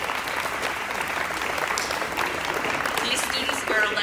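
A school auditorium audience at a middle school honors ceremony gives sustained applause for student council members, a steady, fairly loud patter of many hands that holds evenly throughout.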